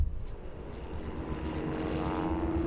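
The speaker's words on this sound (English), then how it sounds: "Above them, the roar of the plane fades." A propeller airplane drones overhead as a steady, broad engine roar, holding at a fairly constant level across the moment, with a faint tonal hum rising slightly toward the end.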